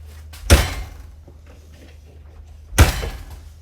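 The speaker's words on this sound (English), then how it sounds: "And then I'm just going to shut this door." Two solid thuds as a door is pushed shut inside a 2022 Eagle HT 284BHOK travel trailer, each a close, loud slam with a brief rattle, separated by quieter handling noise.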